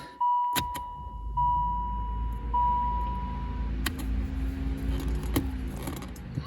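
A 1987 Pontiac Fiero is switched on: a few key clicks and a steady beeping chime, then the engine catches and settles into a low, even idle heard from inside the car.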